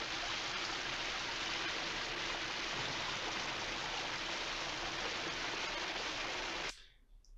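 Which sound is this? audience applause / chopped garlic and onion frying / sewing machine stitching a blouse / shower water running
shower water running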